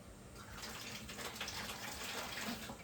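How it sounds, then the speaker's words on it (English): Water pouring steadily into a 10 gallon aquarium, a continuous close splashing gush with bubbling texture throughout, no voices. "I'm going to pour it slowly"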